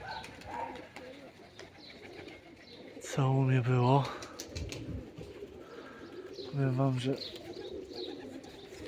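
Pigeons coo close by in two low, throaty bursts, with someone talking quietly in between and around them.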